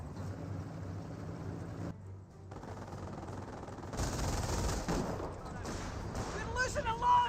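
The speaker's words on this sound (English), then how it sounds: "we do got some sniper shots there onto these scope rifles now" Rifle fire in a Company of Heroes match, scoped rifles trading shots amid bursts of battlefield gunfire, a dense crackle that thins briefly then swells louder, with a voice commentating over it.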